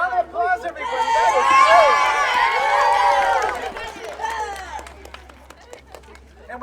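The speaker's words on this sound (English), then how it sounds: "All right, round of applause, everybody." Children and adults at an election rally bus tour stop in an elementary school cheer and shout in a loud burst that fades into scattered chatter and light clapping.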